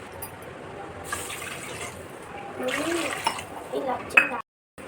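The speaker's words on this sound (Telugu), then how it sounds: "ఇప్పుడు అదే కప్పుతో నేను మూడు కప్పుల వాటర్ వేస్తున్నాను" Water poured from a cup, three cupfuls, splashes into a metal pan in short bursts, with faint clinks, close up; a voice speaks partway through.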